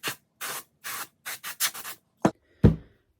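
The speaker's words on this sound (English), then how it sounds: "so let me go spray it off" A series of short broadband hissing bursts from water sprayed onto a dirty rock, about eight in a row, then two sharper spurts at the end, like a hose spraying in pulses.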